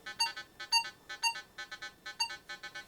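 A Minelab Vanquish metal detector gives its iron tone: faint, quick electronic beeps in rapid grouped bursts, a warbling tone repeating over and over.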